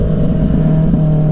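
A 2024 Kawasaki motorcycle with a Moore Mafia ECU flash holds a loud, steady engine drone close by on throttle during a short stretch of riding.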